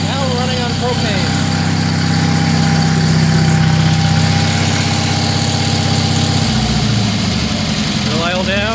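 Kohler 5000 watt generator engine idling on propane, a steady close drone throughout with a slight shift in tone near the end.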